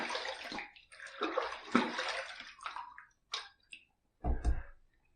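A razor is rinsed under a running tap mid-shave, with several short bursts of splashing water and quick drips separated by brief pauses, close and fairly quiet.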